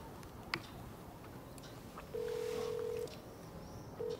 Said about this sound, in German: Da rufe ich doch glatt mal den Heinz an